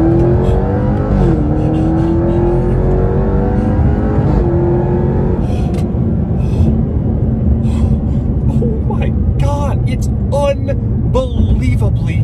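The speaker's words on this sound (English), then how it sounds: "I'm gonna launch it again here" Jaguar XE SV Project 8 V8 sedan launching hard from a standstill, its engine note climbing through gears in loud, continuous rising sweeps that run throughout, with a person talking over it.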